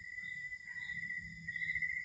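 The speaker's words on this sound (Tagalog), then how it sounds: "Kuliglig lang yung maririnig mo rito." Crickets chirp steadily at night in the middle of a forest farm, a continuous high trilling with layered callers close by and no voices.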